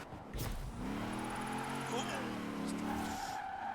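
A car drifts in Forza Horizon 4, its engine droning in steady harmonics while tires squeal through a sliding turn; someone talks over the game audio.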